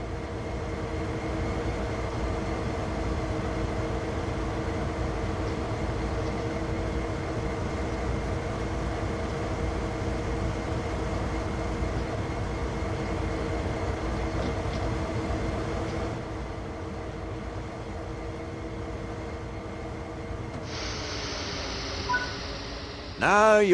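A diesel locomotive idles steadily in Train Sim World 3, heard from the engineer's seat as a continuous low rumble with a constant tonal hum that drops slightly near the end, followed by a short click.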